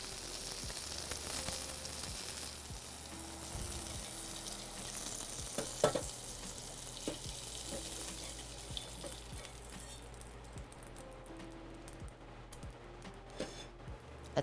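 Food frying in a pan as curry sauce for Danish meatballs is started, a steady quiet sizzle and crackle with occasional stirring scrapes and small knocks throughout, fairly close but low in level.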